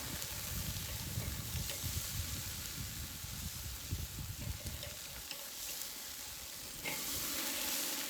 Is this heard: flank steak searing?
yes